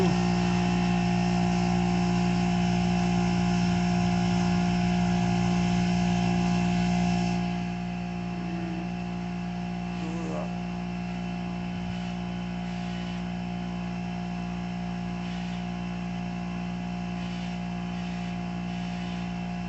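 An air compressor inflating all-terrain tires drones as a loud, steady motor hum with a strong tonal buzz, dropping to a lower, quieter level partway through, with faint clicks and hisses.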